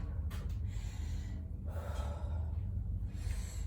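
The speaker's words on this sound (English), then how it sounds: "Consciously slow down my breathing." A person breathing heavily during a rest break in a workout, with audible gasping inhales and exhales over a steady background rumble. Nobody speaks.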